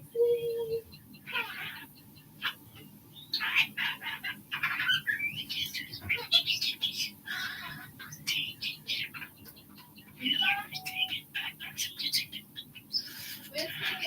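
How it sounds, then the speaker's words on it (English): A flock of birds outside, with scattered chirps and squawks in irregular bursts, fairly close and moderately loud, while a person speaks intermittently. "I saw a whole bunch of birds back there"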